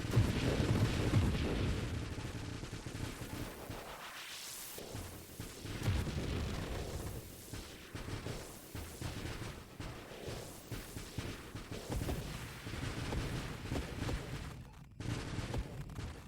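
Weapons in the space shooter Nova Drift fire steadily at targets, a dense barrage of booming shots and blasts with a loud, busy rumble that dips briefly and then continues.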